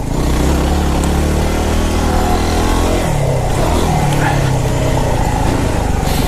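A Yamaha WR250R motorcycle engine drones loud and close while the bike rounds a corner. The steady mid-pitched engine note shifts midway as the throttle changes, with wind rush over it.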